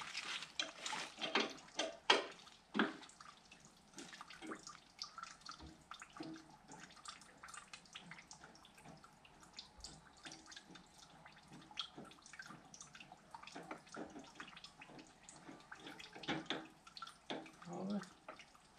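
Fuel from a Zetor 25A tractor running out through a valve, an irregular trickle of drips and splashes heard close but faint, busier at the start and end, with a voice murmuring in places.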